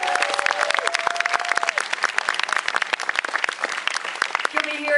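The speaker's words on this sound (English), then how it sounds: "give a huge round of applause for LA's very own indie tribute band" An audience at a live tribute band show claps in dense, sustained applause, loud and close, with a voice speaking over the clapping.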